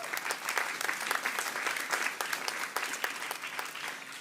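An awards-ceremony audience at the Northern Writers' Awards claps steadily, with dense overlapping handclaps sustained at an even level throughout, heard from within the hall.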